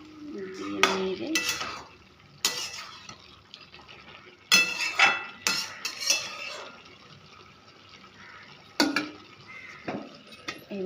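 A spoon stirs cabbage curry seasoned with garam masala in a metal pan, giving repeated scraping clatters in irregular bursts. A quiet sizzle sits between the strokes, close up.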